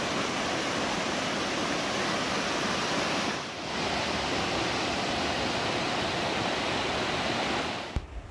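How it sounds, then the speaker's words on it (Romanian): The Dan River at Tel Dan, a tributary of the Jordan, flowing with a constant broad rushing wash of water, close and even, with a brief dip partway and a small knock near the end. "Râul Dan, pe care îl vedeți în aceste imagini, este unul dintre principalii afluenți ai râului Iordan."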